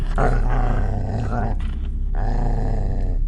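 A dog growls low and continuously, close by, with a rough rumbling tone and a brief dip in the middle.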